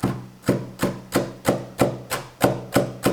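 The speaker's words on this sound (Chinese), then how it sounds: "再来切些小葱花" Knife chopping green onions on a cutting board, a steady series of about nine crisp, evenly spaced chops close by, each with a short decay, and no talking.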